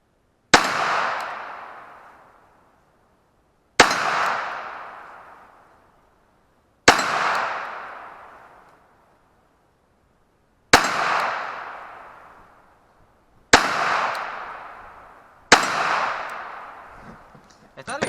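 Six sharp Glock 42 pistol shots fired at a steady slow pace, each a loud crack followed by a long ringing decay, spaced roughly three seconds apart during rested target shooting.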